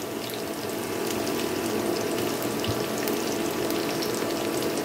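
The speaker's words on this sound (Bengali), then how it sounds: "এখন এই পেঁয়াজটাকেও আমি এই রসুনের সাথে ভালো করে একটু ভেজে নেব।" Sliced onion and garlic frying in oil in a home kitchen for a Bengali cabbage mash, giving a steady, soft sizzle that runs unbroken at low level with no talking.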